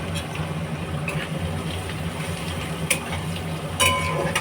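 Whole garam masala and garlic paste fry in a pan with a soft, steady sizzle, with a few light scrapes and stirring clinks close by.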